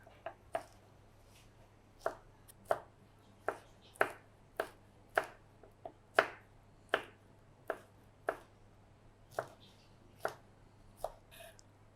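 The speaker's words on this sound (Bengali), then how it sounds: "মরিচটা কুচি কুচি করে কেটে নিলাম।" Green chillies chopped finely with a knife on a board, a steady run of crisp, close knocks coming about twice a second over a low background hum.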